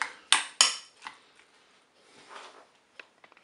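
A metal spoon scrapes and taps in a dish while sausage meat stuffing is scooped into tomatoes, a few sharp clinks up close, then softer scraping and light taps.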